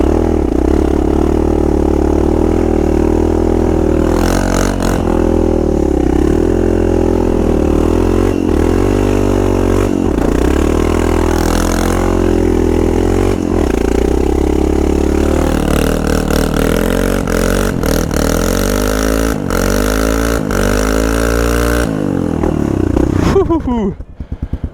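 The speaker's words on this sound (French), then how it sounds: "ça fait toujours plaisir de cramer un petit pneu quand on sait qu'on va changer de pneu" A Yamaha XT 600 E motorcycle doing a burnout to burn off a worn tire, its engine revving hard and close for nearly the whole stretch, pitch surging and dipping, before cutting off abruptly at the end.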